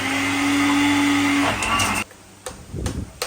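A kitchen blender grinds hummus with tahini and olive oil, a loud steady whirring that runs for about a second and a half, then winds down into clattering and a few short bursts before stopping.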